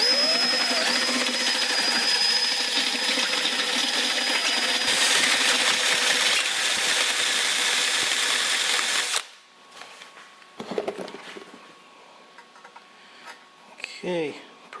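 A power drill with a large bit bores a hole in a fitting for stainless side pipes on a 427 Cobra, whining loudly and steadily for several seconds, then stopping, followed by a few quiet handling clatters.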